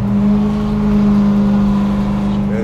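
Heard from inside the cabin, a 600 hp big-block V8 in a 1976 Buick Electra custom pulls with a loud, steady deep drone and a strong low hum that rises slightly as it accelerates.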